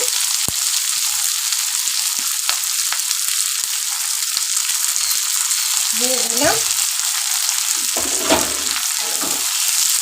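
Steady, loud sizzling of tangra fish frying in hot oil, a continuous crackling hiss with occasional clinks and scraping of stirring.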